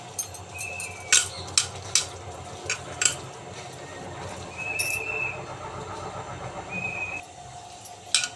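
Spices and two spoons of yogurt stirred together for a chicken leg marinade, with scattered light clicks and scrapes of a spoon against a bowl over a low steady background hum.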